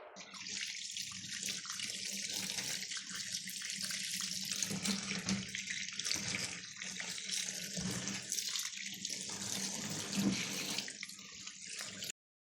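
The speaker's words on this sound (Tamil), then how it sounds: "முதல்ல ரோஜா இதழ்களெல்லாம் நல்லா ஒரு வடியில் போட்டு க்ளீனாக கழுவிடணும்." Rose petals are rinsed in a strainer under a running kitchen tap, a steady hissing stream with shifting splashes as the water hits the petals, close and continuous until it stops abruptly.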